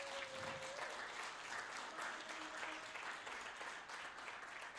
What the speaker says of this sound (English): as a happy birthday to Julian, would you all give him a round of applause, please?